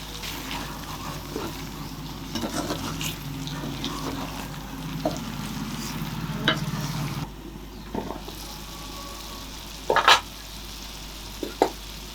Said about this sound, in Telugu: నెమ్మదిగా కలుపుకోండి